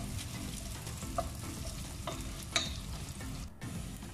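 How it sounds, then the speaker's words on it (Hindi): Three chopped onions sauté in four spoons of olive oil in a pan, giving a steady close sizzle with occasional soft stirring scrapes and clicks, and no voices. "3 अदद प्याज काट के डाल दूंगी इसमें। इसको हम अच्छे से सोते करेंगे।"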